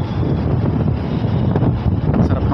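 Strong wind buffets a condo rooftop high above city buildings, giving a loud, continuous rumbling roar across the microphone with no voices.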